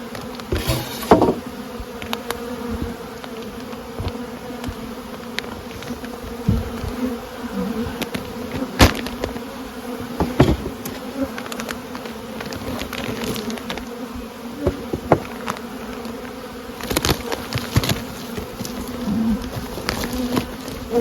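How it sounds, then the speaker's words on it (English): Honeybees buzz at a hive entrance in spring, a continuous close drone with individual bees passing near, plus scattered knocks and light bumps, no talk. "Those bees at the entrance upstairs."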